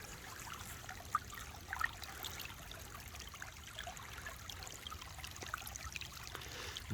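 Water running through a gold prospecting sluice box set in a West Virginia stream, a faint, steady babbling trickle with occasional small splashes, continuous and unaccompanied by voices.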